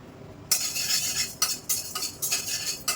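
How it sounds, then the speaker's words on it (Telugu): Chana dal is stirred in a pan with little or no oil over a low flame, a metal spoon scraping and clinking in short repeated bursts above a faint background hiss. "నేను కొంచెం ఫస్ట్ శనగపప్పు వేసి వేయించుకుంటాను"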